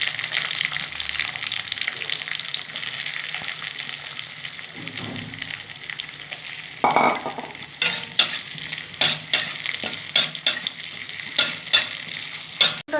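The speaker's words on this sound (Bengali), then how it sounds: "পেঁয়াজ ফোড়ন দিয়ে দেবো।" Onion seeds crackle in hot oil as a tempering for Bengali lentil kofta, a soft sizzle that turns into a run of sharp, rhythmic scrapes and taps from stirring in the pan.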